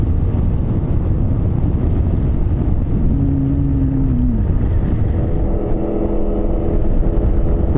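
A Vespa Primavera 50cc scooter engine drones steadily at full throttle while climbing a 6.4% grade near Lake Cuyamaca, loud and continuous, with heavy wind rush over the microphone and a brief rising tonal whine partway through.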